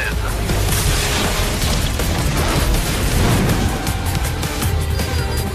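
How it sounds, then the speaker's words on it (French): A bus explodes in the racing video game Split Second Velocity, giving a loud, continuous roar of booming blasts and crashing debris that fills the whole stretch, with no pauses. "L'explosion du bus a été activée par le pilote numéro 16."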